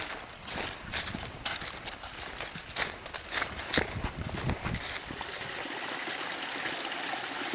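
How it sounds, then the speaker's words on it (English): Water spills down a small stepped cascade beside the Happy Hollow hiking trail at Ferne Clyffe, a continuous splashing trickle mixed with crunching footsteps and scuffs close by. "There's water flowing from up top too, on that second tier, and then coming down here"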